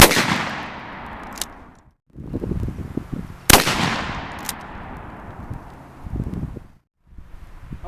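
Two loud outdoor blasts from a Winchester 12 gauge shotgun loaded with 2 3/4 inch number 4 buckshot, each a sharp crack followed by a long rolling decay, with wind and rustling in between.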